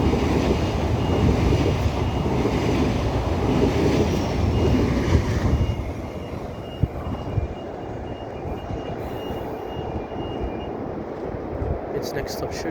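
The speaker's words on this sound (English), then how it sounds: "Marion D set passing platform number 1." A Sydney Trains Mariyung D set passenger train, ten cars long, rumbles loudly past a station platform at Cowan, then its roar fades and the run-by tails off.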